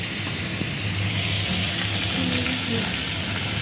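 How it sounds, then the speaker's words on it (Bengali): Steady, close sizzling and crackling of hilsa fish frying in hot oil, continuous from start to finish with faint voices in the background. "মাছ ভাজা করছে"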